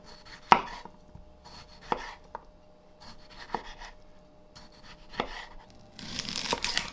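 A knife cuts raw white onion on a cutting board in a home kitchen: four or five crisp, separate chops spaced a second or more apart, close and fairly loud, ending in a softer rustling scrape, with no voices.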